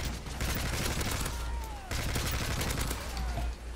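Rapid AK rifle gunfire from the Modern Warfare 3 survival mode in a village map, sounding as dense, continuous bursts of shots that stay loud throughout with no pauses.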